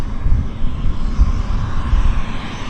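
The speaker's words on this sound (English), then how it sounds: "I hear turboprop engines." A steady, loud roar of turboprop aircraft engines at Vancouver International Airport, with a low rumbling drone, continuous throughout and fairly close.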